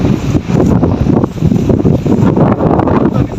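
Strong wind roars loudly and steadily against the microphone in an olive grove, with heavy low buffeting that surges and dips throughout.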